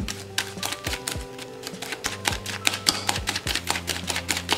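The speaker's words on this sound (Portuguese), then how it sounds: "Vou bater bem batidinho." A creamy cabbage pie mixture being beaten in a bowl, with steady, fast clicking strokes of a utensil repeating throughout, fairly close and alone.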